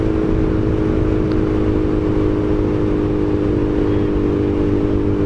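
A Suzuki Bandit 1250 motorcycle rides at steady speed with a constant, loud engine drone and heavy wind rumble, with no talking.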